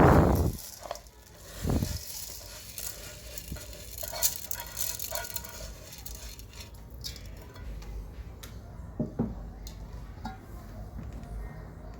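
Rice is stirred into grated onions rubbed with black pepper and salt for Egyptian mahshi, giving soft scraping and clinking of a spoon against a pot, with a couple of louder knocks early and a voice speaking at times.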